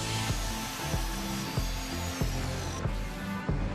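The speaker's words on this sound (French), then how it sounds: "Et nous allons la scier sur mesure." A wooden board is hand-sawn to size for a candy jar: about six even back-and-forth saw strokes rasp through the wood in a steady rhythm, close up with no talking.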